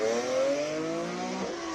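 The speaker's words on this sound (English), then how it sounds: "The classic 3-liter straight 6 normally aspirated rear-wheel drive E36" A BMW E36 race car with a normally aspirated 3-liter straight-six, rear-wheel drive, on a hillclimb run, its engine droning steadily at high revs, close and loud, with a shift-like dip near the end.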